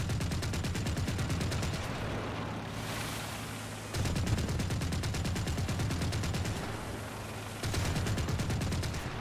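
A BMP-2 autocannon in War Thunder fires rapid, evenly spaced bursts, loud and close, in two long strings broken by brief pauses, over a steady engine rumble.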